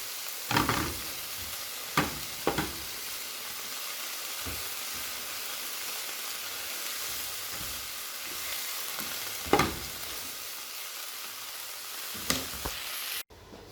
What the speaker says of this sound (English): So now we're gonna saute the broccoli and the chard